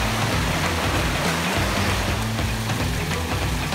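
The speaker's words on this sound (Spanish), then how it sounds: "Y aquí desemboca el río." River water flows steadily where it empties out near a mountain, a dense, continuous rushing wash, loud and close with no pauses and no voices.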